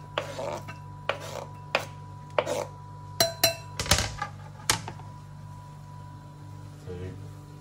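Chopped potatoes tipped into a pot: a series of distinct close clinks and knocks, roughly one every half second, then a brief busier clatter before it quiets.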